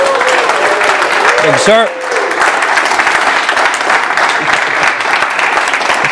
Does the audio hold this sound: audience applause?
yes